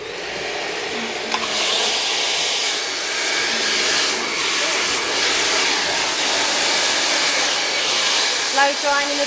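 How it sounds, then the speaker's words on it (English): A hair dryer blows steadily while hair is dried over a round brush during a short graduated bob cut, a loud, close, continuous rushing whoosh with a few faint clicks. "Blow drying in the direction that we want the fall."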